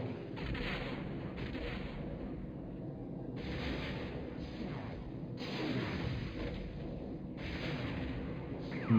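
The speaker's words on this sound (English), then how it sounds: "See how quickly that goes down when the Super Star Destroyer starts firing." Super Star Destroyer laser fire in the Star Wars: Rebellion strategy game: repeated rumbling blasts and bursts of broad noise in rough pulses, a dense battle din throughout with no clear speech.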